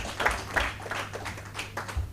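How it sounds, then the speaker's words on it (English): Scattered, uneven handclaps from an audience at a SEPLAT annual general meeting, a few separate claps spread across a couple of seconds over a low steady room hum, with no talking. "If you want to clap, I'll hold on."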